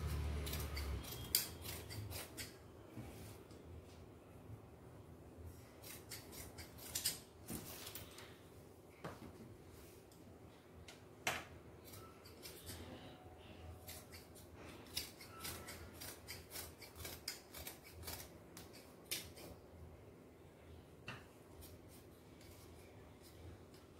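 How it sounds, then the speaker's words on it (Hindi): Scissors cutting through an old towel, with repeated sharp snips at an uneven pace against a low background hum, close and moderately loud, and nobody talking. "पहले हमने जो खड़ा वाला पासा उसको काट देना है। ये वाले ही चीज बिल्कुल काट रहे हैं।"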